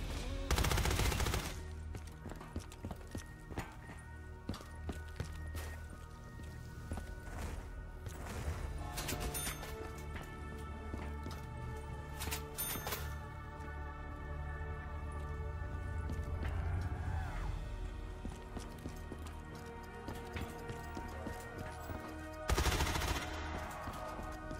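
Gunfire in a Black Ops 3 Zombies Cold War mod: rapid automatic bursts and single loud shots crack repeatedly, with heavy impacts and mechanical clatter between volleys and a sharp loud burst near the end.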